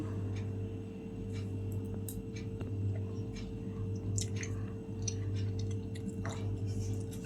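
Chewing on Telugu-style prawn curry, the prawns first boiled with salt and turmeric and cooked dry; soft, moist mouth sounds and small squishy bites repeat close up over a steady low hum, with no talking.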